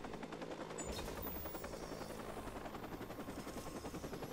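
Helicopter in the video game Watch Dogs, a steady rotor-and-engine drone that runs loud and unbroken from start to finish, with scattered game effects layered over it and no talking.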